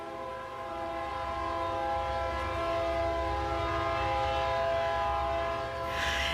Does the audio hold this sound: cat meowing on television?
no